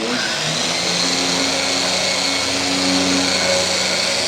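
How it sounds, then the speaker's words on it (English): A rotary buffer spinning a foam polishing pad whirs steadily at constant speed, a continuous droning hum with a faint whine, close by and with no pauses. "You want to see the pad rotating."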